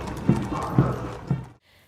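Hooves of the mounted 61st Cavalry horses at a Republic Day parade in India, three distinct clopping beats evenly spaced over a busy outdoor crowd hum, cutting off abruptly near the end.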